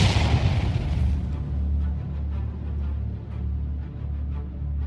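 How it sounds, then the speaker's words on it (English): Pressurized propane rail car blowing apart in a BLEVE at Kingman, Arizona: a broad roaring blast at the start that fades into a heavy, rolling low rumble with dull repeated thuds. "the pressurized propane rail car exploded entirely"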